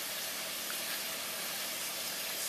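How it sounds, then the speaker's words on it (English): A steady, close hiss and bubbling rush like water boiling hard in a pot, constant throughout with no voices. "And let it boil away"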